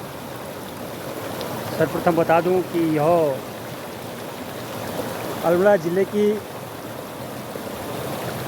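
A river in Almora district, flowing down from the forests of Pandavkholi and Bhatkot on Dronagiri (Dunagiri) mountain, makes a steady broadband rush of water. Someone talks over it in two short bursts.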